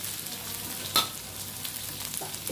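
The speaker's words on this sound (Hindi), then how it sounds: "अब डालेंगे प्याज, मिर्चें डालें" Chopped onions and green chillies sizzle steadily in a hot pan for egg and vegetable fried rice, a continuous frying hiss with a brief louder clatter of stirring near the start.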